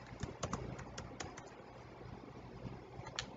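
Fast, light clicking of keys on a computer keyboard as a discussion thread subject title is typed, irregular taps at close range in a quiet room.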